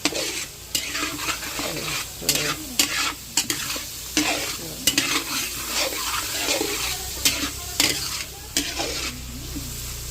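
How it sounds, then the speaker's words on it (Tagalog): Beef for stroganoff sizzling loudly in a hot pan, with repeated scraping stirs that break the steady frying hiss, close up, no voices. "So, ilalagay na natin ang laman ng baka."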